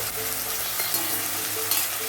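Onion and ginger-garlic paste stir-fried in a pan for a paneer mushroom dish, a steady close sizzle broken by a few soft spatula scrapes, with no talking.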